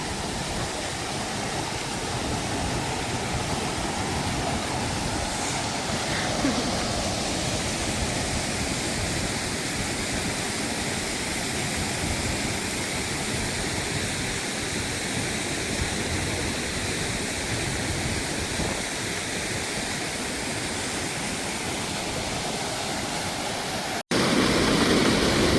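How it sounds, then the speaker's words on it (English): A rushing waterfall on the Isle of Skye roars as a steady, loud broadband wash of water, unbroken for the whole stretch, with a brief thump near the end. "Right next to like such a rushing waterfall."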